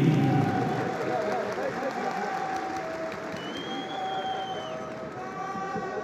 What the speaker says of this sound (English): a big, big applause for these two fighters, Bilal Zeroual and Nabil Haryouli